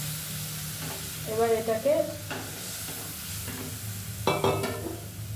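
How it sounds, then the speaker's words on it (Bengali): Spice paste with a whole cut tomato being roasted in a pan for a Bengali fish curry, a low steady sizzle with occasional stirring scrapes, close by, under brief talk. "মশলাগুলোকে মা কষে নেবে।"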